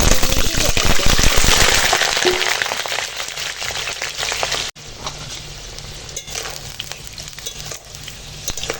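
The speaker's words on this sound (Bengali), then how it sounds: "একদম সোনালি করে আলু ভেজে নিয়েছি" Potatoes frying in hot oil in a kitchen pan beside marinated goat meat, giving a loud crackling sizzle that later settles into a quieter, steady hiss, with someone talking over it.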